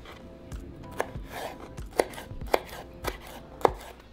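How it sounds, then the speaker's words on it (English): A knife chopping green chiles, onion and tomato on a cutting board, a steady series of sharp taps and thuds, close and clear with no talking. "We're going to cut in half and just cut them into small pieces."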